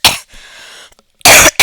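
Several harsh, close coughs from one person: a loud burst, a breathy throat sound, a short pause, then two more forceful coughs in quick succession.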